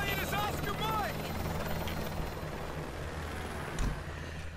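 A military helicopter in the video game Modern Warfare 2 makes a steady rotor and engine drone the whole way through, with a loud whining sweep near the start and radio-style game dialogue over it.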